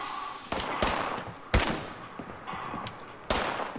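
Gunfire in the video game Fallout 76: three sharp bursts of shots, each followed by a short rattling decay, spaced about a second or two apart, loud and close with no talking.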